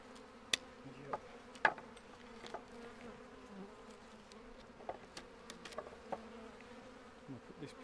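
Honeybees from a distressed colony rescued from a chimney buzz steadily at close range, with a few sharper individual passes and taps rising above the hum.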